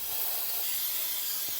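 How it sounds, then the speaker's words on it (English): Cleaner sprayed onto dirty plastic carburetor parts from a Craftsman 21-inch lawn mower, a continuous close hiss of aerosol spray filling the whole moment with no talking. "Spray them down."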